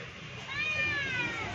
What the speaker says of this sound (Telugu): క్యాట్ నీకు హాయ్ చెప్తుంది